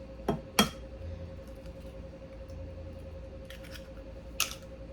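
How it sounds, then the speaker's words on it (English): Two eggs crack against a bowl rim into a bowl for salmon balls: two sharp, close clicks in quick succession, followed by a softer tap a few seconds later over a quiet kitchen hum. "Just gonna crack them in there so that I know I have no shell."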